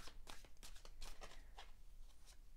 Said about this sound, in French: je vais tirer une carte de l'Inner Star Tarot